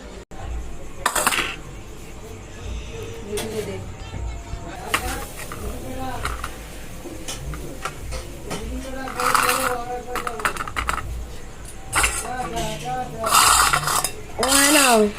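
Plates and two bowls are set out and yogurt is served in a home kitchen, with repeated ceramic clinks, cutlery scrapes and clatters near at hand, amid household background noise and voices.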